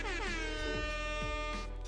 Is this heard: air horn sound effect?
yes